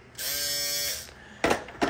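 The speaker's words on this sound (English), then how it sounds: "Got the shaver, the T-Pop X." A T-Pop X electric shaver buzzes steadily for just under a second, then stops; two short clattering knocks follow.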